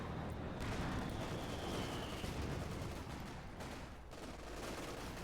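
Mortar and gunfire rumble through a Company of Heroes 2 battle, a faint steady barrage of distant blasts and crackling shots layered into a continuous dull roar.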